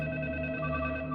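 A telephone ringing in a Hindi dubbed feature film, a short continuous tonal electronic ring holding steady at moderate level, no voices over it.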